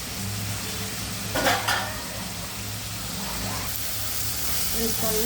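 Ingredients for a sambar made without lentils, salted and being sautéed in a pan, giving a low, faint sizzle with a couple of brief scraping stirs and light utensil clinks.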